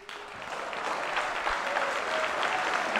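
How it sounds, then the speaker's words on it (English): A legislature gives a standing ovation after a governor's speech, the clapping swelling quickly from a quiet start into a sustained, moderately distant ovation. "getting a standing applause from the legislature"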